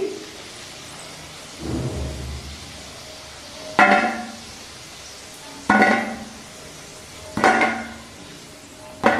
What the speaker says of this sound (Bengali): লো টু মিডিয়াম ফ্লেমে আমি বড়াগুলো ভেজে নিচ্ছি।